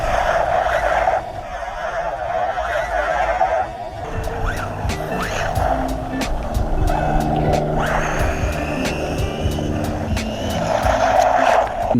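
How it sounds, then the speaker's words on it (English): A WLToys A959b RC car drives and spins donuts, its buzzing high-revving motor loud and continuous with rising and falling pitch, tire scrubbing and skidding noises, and sharp clicks and knocks as it slides. "Once you pop that throttle, the fun don't stop, just like the donuts won't until a tire pops off."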